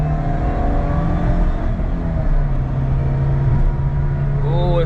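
A supercharged Subaru Vivio RX-R kei car cruises on the highway at about 90 km/h in fourth gear with the AC on, a steady engine drone and faint whine heard from inside the cabin.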